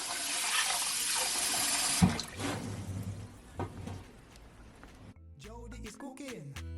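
Tap water runs steadily into a sink while hominy corn is rinsed, a loud broadband rush for about two seconds that then weakens and turns patchy before stopping.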